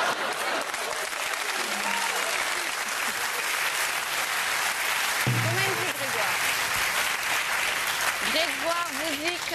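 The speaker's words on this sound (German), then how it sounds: "Da gibt es Applaus" Studio audience applause fills a German late-night talk show, sustained loud clapping throughout while a voice speaks over it in several short phrases.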